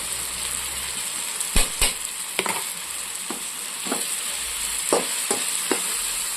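Prawns frying with chili powder, turmeric, salt and sugar in a pan, a steady close sizzle running throughout with several sharp clacks of a stirring spoon against the pan, no talking.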